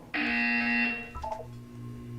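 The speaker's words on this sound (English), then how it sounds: "When you hear the buzzer, look down at the floor." A single harsh electronic buzzer from the video game Portal 2 sounds loud and steady for nearly a second, then cuts off, leaving faint clicks and a low hum.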